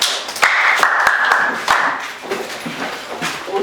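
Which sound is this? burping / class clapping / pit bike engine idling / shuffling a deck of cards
class clapping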